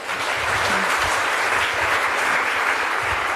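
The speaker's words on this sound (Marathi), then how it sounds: "उत्स्फूर्त टाळ्या व्हायला हरकत नाही." Steady, full applause from an audience at a Marathi interview event with lyricist Guru Thakur, continuous clapping that holds at an even, fairly loud level throughout with no speech.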